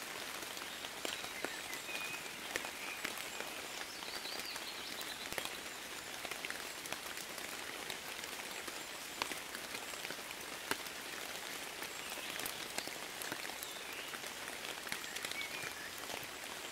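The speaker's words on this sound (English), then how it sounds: "The rain has a rhythm that soothes and comforts." Steady rain falls on surfaces in a soft, even patter of countless drops, with a constant hiss and occasional slightly louder taps and no voices.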